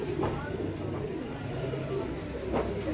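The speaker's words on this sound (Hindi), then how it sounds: "देखें ये कबूतर एक शाहिद भाई ने अभी दिखाया है मुझे।" Pigeons coo softly in a low, rolling murmur over steady background noise, with a couple of slightly louder coos.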